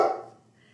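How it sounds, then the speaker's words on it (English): A dog barks once at people outside, a short close burst that quickly fades into quiet room tone. "I'm laughing at my dog. He's barking at my friends outside."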